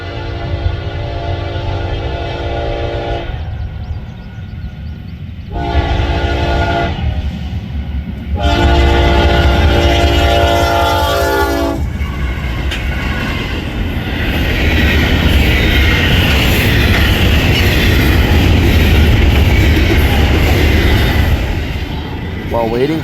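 Norfolk Southern freight NS260 roars past at speed through Myerstown, Pennsylvania, with long blasts of the horn in the first half, then a loud, steady rumble and rattle of the passing cars.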